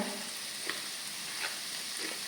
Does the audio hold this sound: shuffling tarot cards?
no